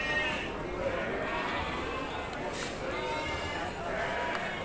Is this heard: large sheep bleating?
yes